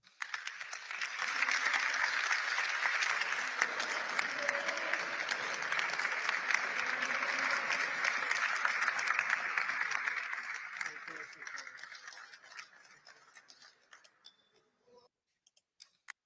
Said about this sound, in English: A lot of applause for Mr. DJT.